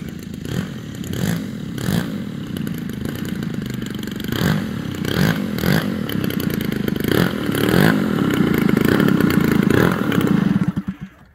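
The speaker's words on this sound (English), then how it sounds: "Listen to that motor, man." Large gas engine of an Extreme Flight Duo 120cc RC airplane runs steadily nearby, a loud buzzing drone with pulsing throttle changes that builds slightly louder before cutting off at the end.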